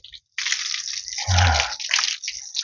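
Water poured and splashed while rinsing a goat after washing it with soap, heard as a close, continuous gush and splatter with a brief pause near the start.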